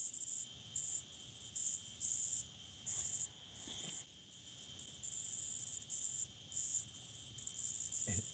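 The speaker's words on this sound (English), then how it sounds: "In my ear, I'm hearing what sounds like crickets, literally." Steady high-pitched cricket chirping in repeating pulses, faint and constant over a quiet background hiss, with no voices.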